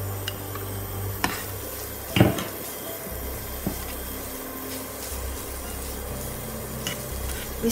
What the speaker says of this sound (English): We stir fry the shallot.